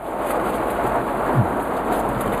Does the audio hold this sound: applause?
no